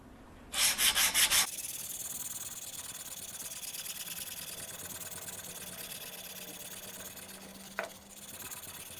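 A knife is sharpened on a Venetian stone, grit 160-125, in a sharpening machine, with a brief loud rasping burst at the start, then a steady motor hum and soft grinding that runs on, with one short squeak near the end.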